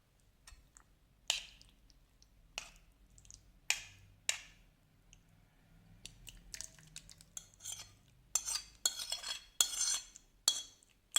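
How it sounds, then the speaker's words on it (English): Metal spoon clinks and scrapes against a pot or bowl while bottle gourd sabzi is mixed with curd and moved into a serving bowl, a series of sharp close taps over a quiet background. "Mix it and transfer it to another serving bowl."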